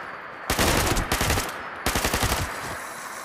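Two loud, close bursts of rapid machine-gun fire in Fallout 76, each lasting under a second with distinct rattling shots, separated by a short gap and trailing into echo.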